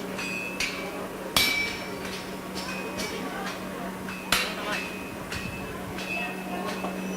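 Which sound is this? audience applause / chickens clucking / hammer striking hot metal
hammer striking hot metal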